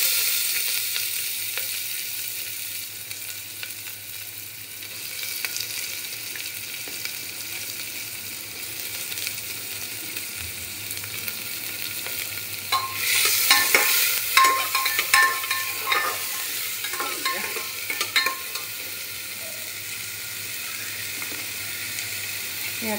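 Sliced onions fry in hot oil with cardamom, cinnamon, cloves and bay leaf, giving a steady soft sizzle with occasional stirring scrapes through the pan, heard close and alone.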